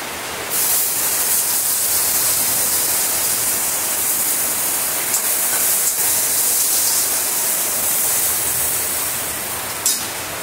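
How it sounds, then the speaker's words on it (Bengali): Chopped onion dropped into hot oil for tempering bursts into a loud, dense, hissing sizzle. The noise starts suddenly and holds steady and close for several seconds. "একটা বড় সাইজের পেঁয়াজ কুচি নিয়েছি, পেঁয়াজটাকে আমি ফোড়নে দেব।"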